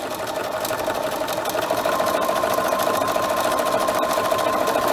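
A sewing machine runs fast and steadily through a zigzag stitch, a close, continuous mechanical whir with a rapid needle rhythm and no pauses.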